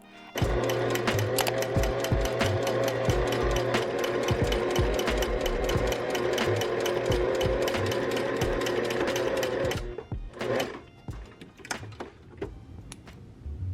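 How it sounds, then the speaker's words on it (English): A sewing machine stitches a crossbody bag strap in one steady, rapid mechanical run of about nine seconds, close and even, then stops, leaving a few scattered clicks and handling noises. "To sew the strap, I move the needle to the right to safely sew close to the edge of the strap."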